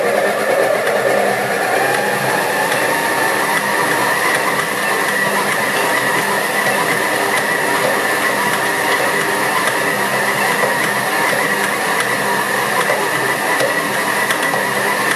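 Stand mixer running at higher speed, kneading cheese and bacon roll dough, a loud steady motor drone with a constant hum that holds unchanged throughout.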